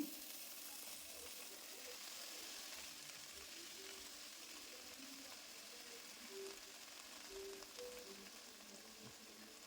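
Drumstick leaves fry in oil in a kadai, giving a steady, soft sizzle with faint crackles throughout, quiet and close, with no voices.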